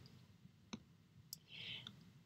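A computer mouse clicks once, a short sharp tick while selecting an item in an online order form, with faint clicks and soft noises around it in a quiet room.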